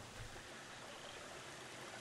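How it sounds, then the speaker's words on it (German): Steady rushing and splashing of a large waterfall in Planet Zoo, an even, fairly faint continuous roar with no talking. "Oh, ein riesiger Wasserfall."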